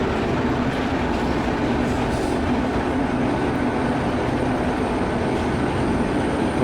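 Passenger express train from the Train Simulator game running at speed, a dense steady rumble of wheels and carriage noise with faint clickety-clack, continuous and loud with no talk.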